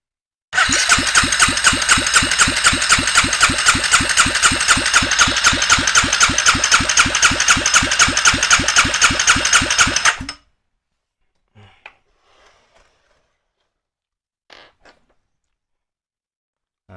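A Honda CBR250R motorcycle engine cranks on the starter during a cylinder compression test, with a loud, fast, even chugging rhythm for about ten seconds. It stops abruptly, leaving near silence with a few faint clicks.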